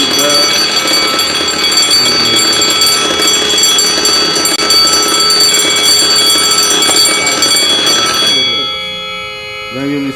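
A fire alarm bell rings loud and continuous after being actuated during an installation and certification test, then cuts off near the end, leaving a quieter tone.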